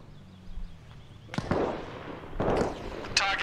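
Several sharp, booming 40mm grenade blasts in the ARMA Reforger video game, spaced about a second apart and fairly close, with faint crackle trailing after them.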